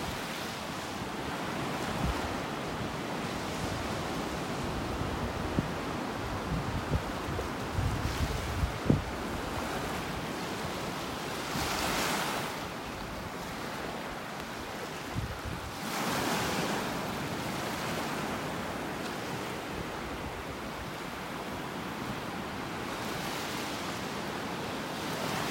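Ocean waves wash steadily onto a beach in North Naples, Florida, with several louder surges breaking and rushing in over a constant background of surf and light wind.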